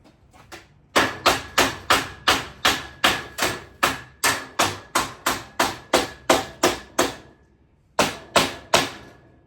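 Steady, evenly spaced hammer blows strike hard material, about two per second, close and sharp, pausing briefly before a few final strikes.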